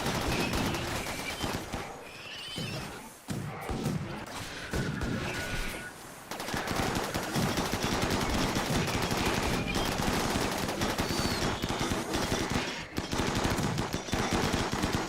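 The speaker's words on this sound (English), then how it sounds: "they're shooting at us" Dense, continuous rapid gunfire from enemy raiders in the Rimworld video game, bursts overlapping into a loud steady barrage for the whole stretch with a couple of brief lulls, with a voice speaking occasionally underneath.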